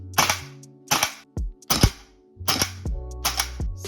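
An airsoft replica dry-firing in semi-auto with an empty magazine, its bolt cycling in sharp, close clacks: six or so irregular shots spaced about half a second apart, with nothing else heard.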